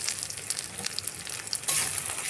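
Onion and garlic paste sizzling in a hot pan as chicken curry is cooked, a steady close frying hiss with occasional spitting pops and a brief louder surge near the end, no voices.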